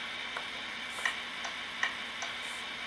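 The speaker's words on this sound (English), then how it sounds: "If you want turn signals, you flip this down and then steer." The turn signal on a Tamiya 1/14 Volvo FH16 RC tow truck ticks faintly in an even rhythm of soft clicks over a steady electronic hiss.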